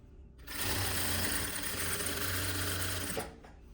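A sewing machine runs nonstop for about two and a half seconds, stitching the top edge of a peplum. The whirring is close, steady and fairly loud, with quiet before and after and no speech.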